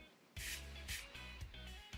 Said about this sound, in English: I am going to spray it with the hydration spray